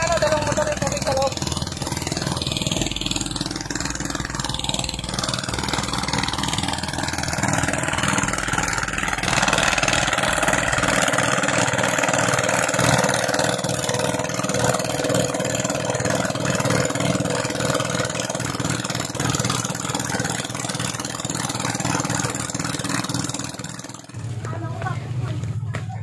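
Two motor water pumps run steadily at a fishpond harvest, a loud continuous engine drone with a constant low rumble throughout, under occasional speech, changing briefly near the end.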